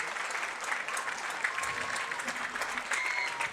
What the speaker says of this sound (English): Nice round of applause here from the fans.